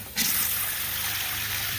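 Water poured into a container to dilute liquid fertilizer for plants, a sudden gushing splash that settles into a steady close rush of running water, with no talk over it.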